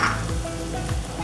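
Red chillies fry in hot oil for a tadka, with steady close sizzling and spattering crackle filling the whole short stretch and no talk over it.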